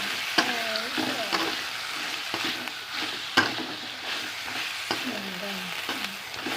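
Spring onion and carrot being stir-fried in a pan, a steady sizzle broken by repeated scraping strokes of a utensil against the pan, with occasional sharper clacks, close by and with no voices.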